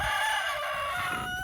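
A rooster on a farm crows in one long, loud, sustained call close by, with faint clucking from the flock underneath.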